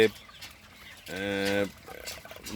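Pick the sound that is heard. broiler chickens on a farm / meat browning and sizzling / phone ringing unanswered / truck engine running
broiler chickens on a farm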